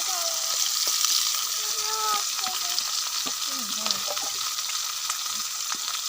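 Onions sizzle and fry in hot oil in a pan for chow mein, with a continuous bright crackle and occasional stirring clinks, close by.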